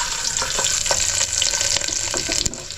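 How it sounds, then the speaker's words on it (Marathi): Four or five garlic cloves sizzling in hot oil inside a small pressure cooker, a close, steady crackle and spatter with occasional sharper pops and stirring scrapes, no voices. "आता मी त्याच्यामध्ये आहे ना कुकरमध्ये लसूण टाकते 4-5 पाकळ्या"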